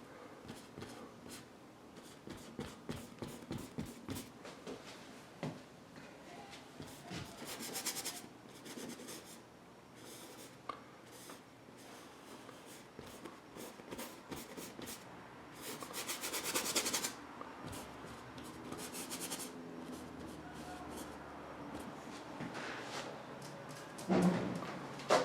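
A finish is rubbed out by hand with a soft, continuous scratchy rubbing of repeated strokes, quiet and close, with no talking.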